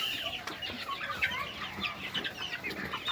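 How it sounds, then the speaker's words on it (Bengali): Chickens cluck continuously on a poultry farm, many birds overlapping in a busy, steady chatter of short calls at moderate distance, with no talking. "হাঁস মুরগি"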